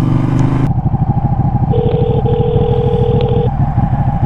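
Steady motorcycle engine drone while riding along, loud and continuous with a rough pulsing texture and a sustained whine partway through.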